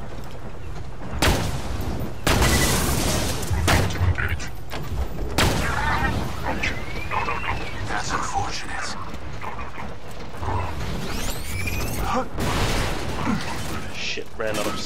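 Sniper rifle fire in Borderlands 2, with several loud booming shots and mechanical reload clicks among dense game effects and explosions, under a player's voice talking throughout.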